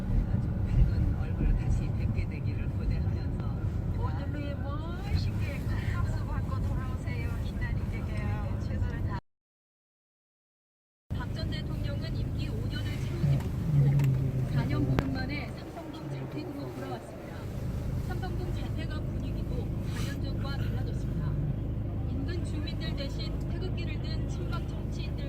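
Car driving through city streets in Seoul on the day President Park leaves the Blue House, with a steady engine and road rumble near and continuous, a brief dropout midway, and a person talking over it.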